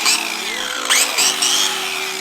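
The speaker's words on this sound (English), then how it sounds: "Right, so we've got the angle grinder set up." A battery-powered angle grinder runs close and loud with a steady high whine that dips and surges in short bursts over about two seconds, with no talking.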